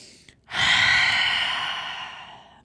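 A single long, calm breath during a yoga flow, drawn in through the nose and released out through the mouth as a steady, close, breathy exhale that slowly fades.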